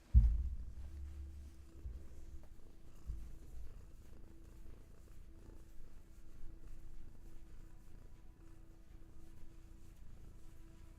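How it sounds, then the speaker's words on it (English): A cat purring in a person's lap, a low, steady rhythmic rumble close to the microphone, soft and continuous after a brief bump at the start, with no talking. "And I have a little Hattie cat in my lap."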